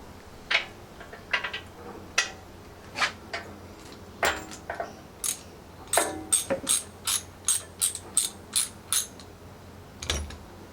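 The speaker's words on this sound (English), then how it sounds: "let's loosen those last couple of bolts off and we should be okay," A ratchet wrench loosens steel bumper bolts on a Jeep JK, giving bursts of quick clicking strokes, some short and some in faster runs. The clicks are close and crisp against a quiet background, with no talking.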